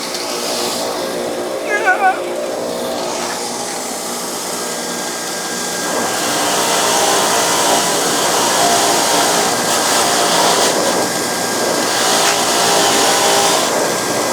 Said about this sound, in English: I can't tell you how many pieces of rusty metal I've cleaned up with this old grinder.